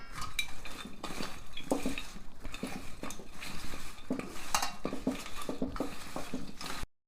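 Spoon scraping and clinking against a metal pot while chili powder, garlic and salt are mixed into an onion chutney, a steady stirring rattle with repeated knocks and no talk.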